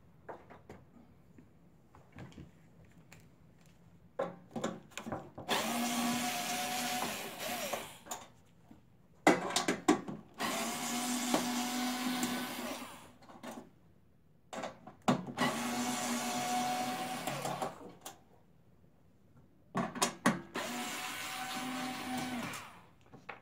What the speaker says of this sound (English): Let me make sure that rotor spins.